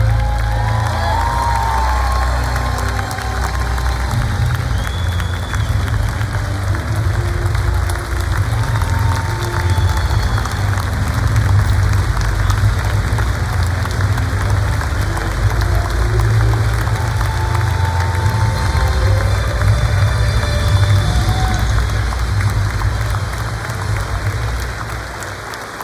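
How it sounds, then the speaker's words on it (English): Large stadium crowd at the 2025 NFL Hall of Fame Gold Jacket Ceremony applauds and cheers, a dense, loud, steady roar of clapping with whoops and shouts that holds for the full length. "And another round of applause for Dan Fouts."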